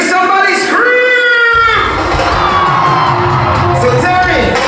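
A large crowd at a live chutney music show screams and cheers loudly and continuously, while someone shouts and yells over the top, making a dense, roaring wall of sound.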